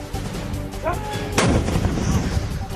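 Gunfire during a ceasefire violation at the India-Pakistan border: a sharp, loud blast erupts midway and trails into rumbling, over a noisy background with faint earlier reports.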